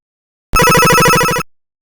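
A single burst of an old-style telephone bell ringing, a rapid metallic trill lasting about a second, loud and close, with silence before and after.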